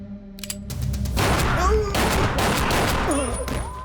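A burst of gunfire erupts in a Hindi-dubbed South Indian action movie scene, dense shots over a loud effects-heavy mix with whooshing swells and a brief tone near the end.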